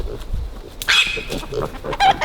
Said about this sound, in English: It's upsetting the chickens.